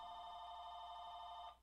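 A telephone rings with a steady electronic tone that holds for about a second and a half before cutting off, faint and alone with no voices over it.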